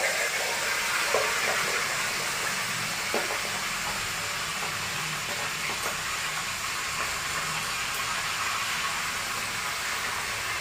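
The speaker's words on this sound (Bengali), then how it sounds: "মাথাটা ভালো করে ভেজে নিচ্ছি, একটু সাইডগুলো ভেজে নিলে মাথাটা এখান করে ভেজে নিচ্ছি।" Red sea fish fries in a pan with the head being browned; a soft, steady sizzle and hiss runs throughout with a few faint clicks, and no one speaks.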